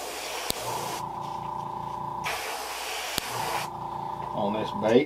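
An airbrush hisses in two long, steady bursts, laying yellow paint on the belly of a custom fishing lure, with someone talking briefly in the background.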